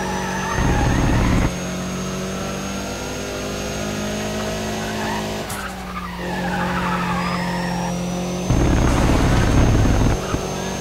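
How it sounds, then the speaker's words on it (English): Car engine in Need for Speed ProStreet bouncing off the rev limiter on a straight, a loud sustained high-pitched engine drone with bursts of tire and exhaust noise near the start and end. "Thank goodness that there's only one straight where I have to deal with the rev limiter."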